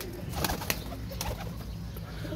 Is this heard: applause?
no